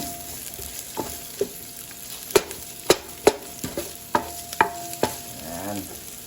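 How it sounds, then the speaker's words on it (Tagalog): Onion, garlic and chili sautéing in a pan for a bottle gourd and shrimp dish, a soft sizzle under repeated sharp clicks and scrapes of a spatula stirring against the pan, loud and close. "Igisa lang po natin ng konti."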